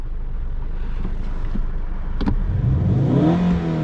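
Skoda Octavia RS with a 2.0 TDI diesel (184 hp) switched into sport mode, a deep bassy engine drone heard from inside the cabin, rising in pitch as it revs near the end, with some wind noise.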